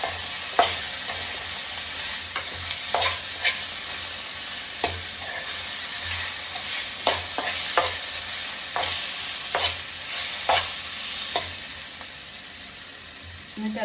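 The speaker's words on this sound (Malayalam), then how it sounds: "തക്കാളി, പച്ചമുളക് ഇതെല്ലാം ഇട്ടെടുത്തിട്ട് നന്നായിട്ടൊന്ന് മിക്സ് ചെയ്യാം." Tomato and green chili frying in a pan, a continuous sizzle with frequent close scrapes and clacks of a spoon stirring at an irregular pace, no voices.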